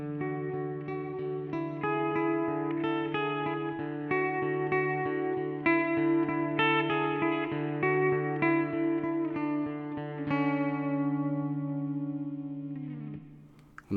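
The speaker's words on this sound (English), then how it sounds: "And now just the reverb." Electric guitar run through a BOSS GT-8 multi-effects processor with only reverb applied, sustained chords and picked notes ringing close and steady with a roomy tail, fading out near the end.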